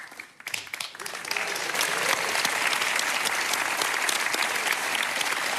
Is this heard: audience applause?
yes